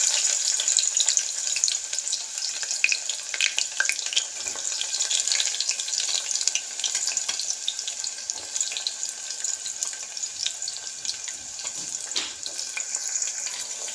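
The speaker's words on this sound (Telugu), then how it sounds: "కుక్కర్ పెట్టుకొని ఆయిల్ వేసేసుకున్నాను. ఒక ఉల్లిగడ్డ వేసుకోవాలండి." Onion sizzles and crackles in hot oil inside a pressure cooker, a dense, continuous hiss with small pops running close and steady throughout, with no voices.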